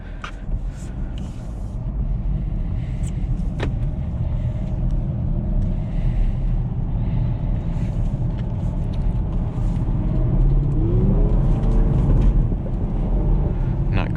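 Camaro SS with a six-speed manual drifting, its engine droning steadily with rising revs and rumble throughout, fairly loud and continuous with a brief swell of revving near the end.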